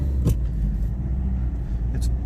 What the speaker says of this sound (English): It's a diesel engine, so it doesn't like to rev like a normal gas car.